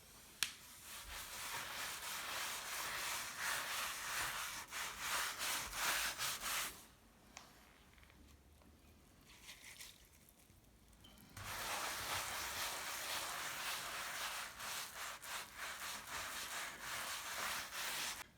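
An old sponge dipped in coffee scrubs across a wooden board for handmade industrial decor: two long stretches of steady, gritty rubbing close by, split by a quiet pause.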